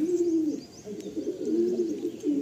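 A Madrasi pigeon held in the hand gives a steady, close run of low cooing in repeated rolling phrases, with faint chirps from other birds in the loft behind.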